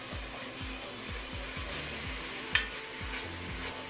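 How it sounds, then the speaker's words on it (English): Garlic cooks in a Dutch oven on a gas stove, a soft steady sizzle under a rhythmic series of low scraping stirs, with one sharp clink partway through. "We're just cooking down the garlic until it becomes fragrant, which won't take long on the gas stove and in Dutch oven"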